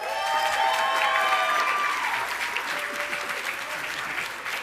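Applause and a few cheers from an audience at an academic award ceremony, loud at first then gradually thinning, with a whistle-like tone sliding over the clapping early on.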